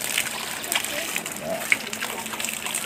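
Water runs steadily from a garden hose outdoors in a Vietnamese home garden while taking cuttings of a Chinese violet vine, a continuous hiss and splatter with voices talking faintly.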